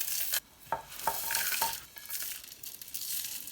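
Roasted whole spices crushed by hand in a mortar and pestle, a run of gritty grinding and scraping strokes with a few sharper knocks of the pestle, close and fairly soft.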